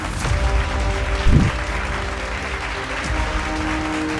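A television studio audience claps to welcome guest Lieutenant General Devendra Pratap Pandey in a Hindi news room, steady close applause running throughout with a brief louder swell near the start.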